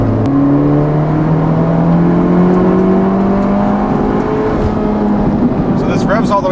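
A 2019 Honda Civic Type R engine with Borla exhaust revs up steadily under load toward 7,000 rpm, its pitch climbing smoothly as it accelerates, loud and close throughout.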